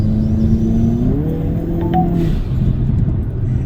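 A turbocharged car accelerating hard as it comes out of a corner, with a loud, steady engine drone that rises in pitch as it builds boost, heard close and alone.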